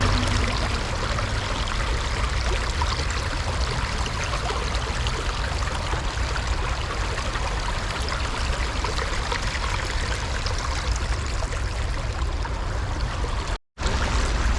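A stream in Seoul flowing toward the Han River rushes in a steady, loud, broadband wash that runs unbroken for the whole stretch, apart from one momentary cutout near the end, with no voices.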